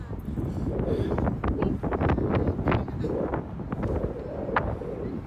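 Gusty wind ahead of an approaching storm buffets the microphone on a New York City bridge in steady low rumbling bursts, with faint scattered clicks and distant sounds beneath.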